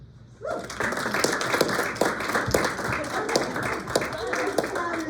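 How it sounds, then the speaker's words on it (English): Members and guests at an installation meeting applaud newly installed officers, steady clapping rising sharply after a brief quiet start and continuing evenly, with some voices faintly mixed in. "Members and guests, please help me give these officers a well-deserved round of applause."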